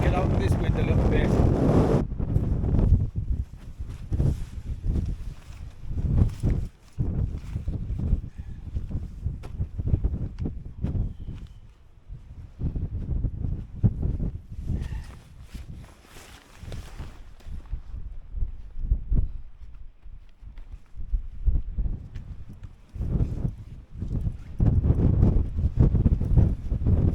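Strong wind buffets a hilltop camp in gusty, rumbling blasts that batter the microphone. It swells and eases over long stretches, loud and close throughout, with no clear voices standing out.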